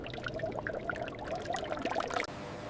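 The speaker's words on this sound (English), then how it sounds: "Vibrant dye solution pours into a shallow vat, anticipating skin immersion." Vibrant dye solution pours steadily into a shallow vat in a snake leather factory, a bubbly, splashing liquid stream that cuts off abruptly near the end.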